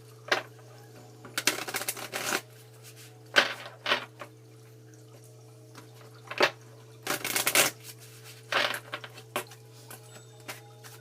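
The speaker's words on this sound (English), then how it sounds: "I'm going to go ahead and just shuffle this deck" A deck of cards being shuffled at close range during a tarot-style angel card reading, in several separate bursts of riffling separated by quiet gaps, over a steady low hum.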